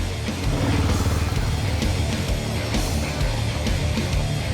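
Motorcycle climbing a loose gravel hill in Borneo, a continuous close engine drone with uneven pulsing and scrabbling noise, steady and fairly loud.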